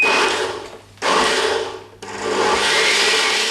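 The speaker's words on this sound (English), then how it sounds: "what I'm going to do is I'm going to blend all of these ingredients together now" A kitchen blender whirs loudly through homemade baked bean sauce ingredients in three bursts, each one pausing briefly before spinning up again, with no talking.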